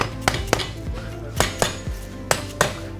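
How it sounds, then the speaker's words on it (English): A mallet tapping a motorcycle exhaust muffler to loosen it, about six sharp metallic knocks in loose pairs, close and ringing, with no talk over them. "So a couple taps with a mallet, like so, we'll get it loose."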